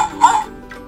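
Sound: dog barking

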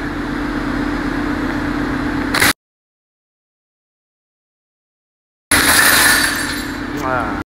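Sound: half inch tempered glass shattering when shot with a slingshot

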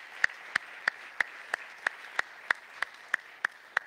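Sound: church congregation clapping hands

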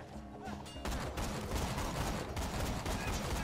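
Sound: sniper rifle gunfire in video game Borderlands 2

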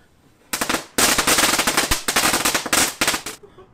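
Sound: leftover fireworks going off

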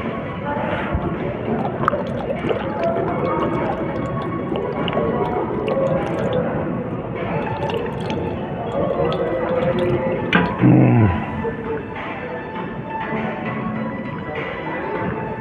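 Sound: water from a metro station drinking water facility

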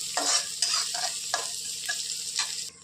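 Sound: chopped onions frying until red

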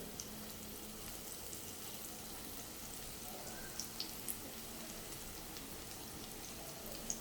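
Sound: broccoli cutlets frying in a pan

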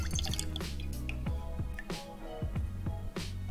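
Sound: Amaro Montenegro liqueur being poured by bar spoon

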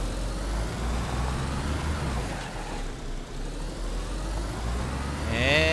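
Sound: car turning around in DayZ video game

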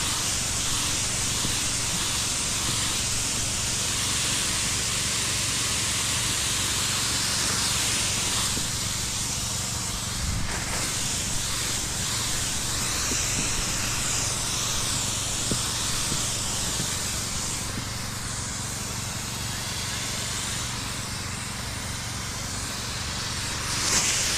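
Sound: spraying with a sprayer

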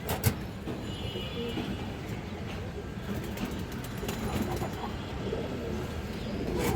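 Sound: pigeons cooing

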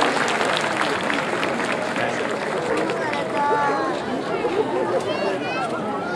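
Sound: audience applause

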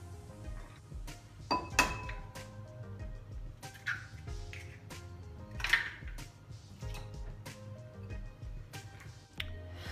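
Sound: cracking four eggs into a separate bowl

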